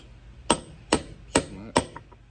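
A hammer strikes a brake bearing being seated into a mini bike wheel, four sharp, evenly spaced metallic blows at close range, each ringing briefly before the next.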